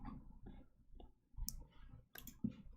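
Computer keyboard keys click in quick, irregular bursts close to the microphone, with short pauses between the runs of typing.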